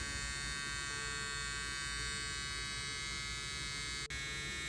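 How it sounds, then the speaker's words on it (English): Needle machine switched on and running, a dense steady electric buzz with a strong hum, loud and close, cutting out for an instant near the end, with no talk. "go ahead and turn our machines on. Once the machine is on, we can adjust our needle."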